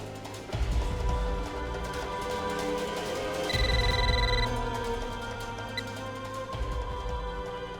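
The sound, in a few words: telephone ringing during an outgoing call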